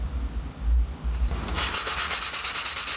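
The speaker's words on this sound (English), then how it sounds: "It's important to still sand these surfaces, even just a little bit." Cast iron bear-shaped tape dispenser being hand sanded before painting, a steady rough scratching rub that continues throughout at close range, with a few heavier bumps early on and no talk.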